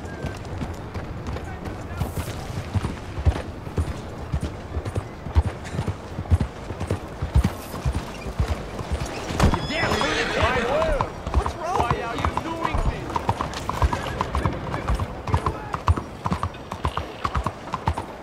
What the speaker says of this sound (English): listen to the sounds of the horse when it walks on pavement